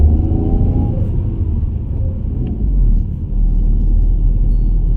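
A car engine pulling uphill on a mountain road after a gear change, a loud, close low rumble that holds steady, dips briefly, then swells again as it labours on.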